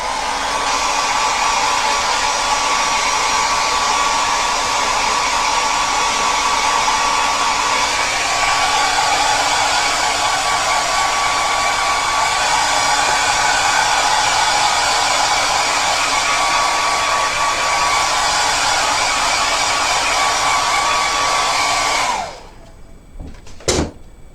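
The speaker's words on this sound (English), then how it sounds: "sorry, hairdryer again" A hair dryer blows continuously at close range for over twenty seconds, drying a gel press print, with an even rushing whine that stops abruptly and is followed by a couple of soft knocks.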